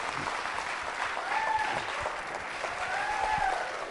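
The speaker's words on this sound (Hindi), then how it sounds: "तालियां जोरों से बजाइए" Sustained applause from an audience at a college quiz show, a dense even clatter of many hands clapping, with faint voices mixed in.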